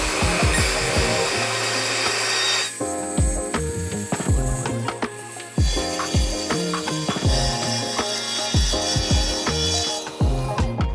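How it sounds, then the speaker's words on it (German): A power saw rasps through a plastic bathroom wall panel during a shower renovation, in a series of loud, close, ragged bursts with rapid clicking and stuttering pulses throughout. "ein richtig schöner, sauberer Schnitt"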